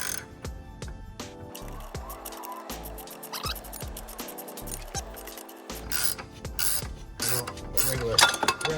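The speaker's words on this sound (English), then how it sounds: "A regular ratchet wrench would be just fine" A ratchet wrench clicks in bursts as it turns a puller drawing the power steering pulley off a Chevrolet S10 pump, the quick pawl ticks coming up close in uneven runs with short pauses between strokes.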